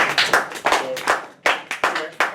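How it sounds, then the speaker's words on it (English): A small group applauds briefly, the sharp hand claps arriving in quick uneven clusters close by, with short gaps between bursts. "And yes, you can clap."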